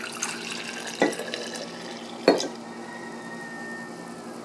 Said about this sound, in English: Now I'm going to add my water, and I do the dye first and then the water second